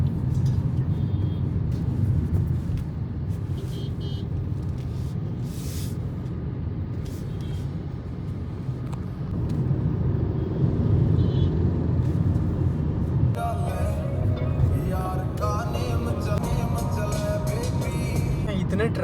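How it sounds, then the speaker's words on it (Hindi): Heavy national highway traffic in Bhubaneswar rumbles steadily from inside a moving car, with passing vehicles, a faint horn and some hiss. Ambient road noise is continuous, with a denser, brighter wash near the end. "इतने ट्रैफिक है भुवनेश्वर में. Just look at the traffic condition."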